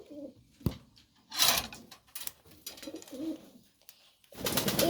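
Fancy pigeons, including racer, Jacobin and Indian lotan breeds, coo softly in a loft, with low throaty calls heard close by amid rustling and occasional wing clatter.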